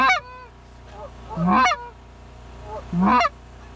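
Wild geese honk during a goose hunt, with two loud, close bursts of overlapping calls about a second and a half apart and quieter honking in between.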